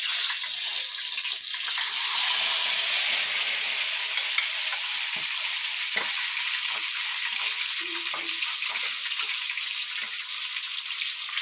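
Fish or vegetables frying in hot oil while fish and cabbage in coconut milk are cooked at home, a steady close sizzle running throughout with occasional small pops and clinks.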